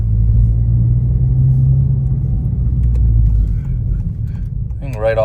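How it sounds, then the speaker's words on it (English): A 2023-or-later Honda Civic Type R FL with an HKS Hi-Power catback exhaust cruises in Comfort mode, giving a steady, loud low rumble that eases slightly toward the end, with no talk over it. "you can tell that it is a little louder in Comfort just because obviously no more valve."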